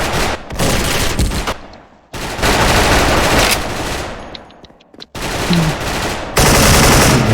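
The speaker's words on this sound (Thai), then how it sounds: "เฮ้ย ใครยิงวะ" Fully automatic gunfire in a shooter video game, including a Disco AK74 rifle, rattles out in loud, close, sustained bursts broken by brief pauses, several long sprays of rapid shots one after another.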